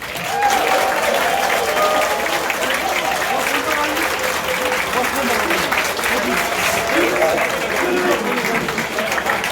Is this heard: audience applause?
yes